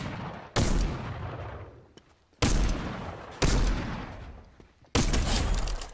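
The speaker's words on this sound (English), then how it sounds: "I'm trying to shoot somebody out of the air" Gunfire in the Fortnite video game: four loud, sharp bursts spaced a second or two apart, each decaying into a long rumbling tail before the next shot.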